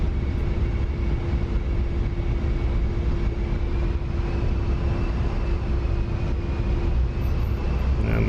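An A-10A jet in the DCS flight simulator, slowing on approach with gear down as its flaps lower, a steady loud engine roar with a sustained whine, constant throughout.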